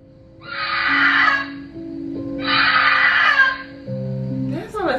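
A woman's two long, shrill screams about a second each, with a steady hum underneath and a rising wail at the end.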